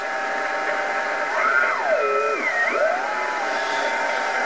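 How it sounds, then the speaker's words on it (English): WiFi radio-frequency interference on the 20 meter amateur band, near 14.2 MHz, heard through a shortwave receiver as steady hiss and static with a few warbling, sweeping tones gliding up and down in the middle, no talk. "A little static."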